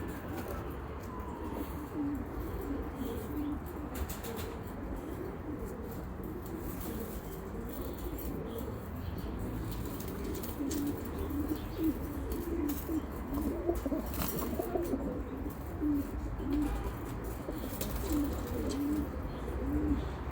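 Pigeons coo steadily in a loft of flying birds, soft repeated calls layered over a constant low background hum, with occasional chirps and faint wing flutters.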